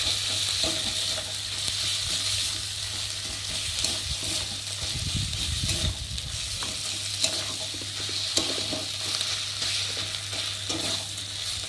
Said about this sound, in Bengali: তারপর দিলাম আদা বাটা আর জিরে বাটা। একটু ভালো করে ভেজে নেবো।